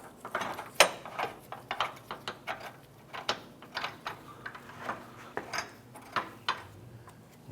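Ratchet wrench tightening the front sway bar bracket bolts on a 2004-2008 Acura TL, a series of sharp metallic clicks and ratcheting bursts in an uneven rhythm, close and fairly loud, no speech.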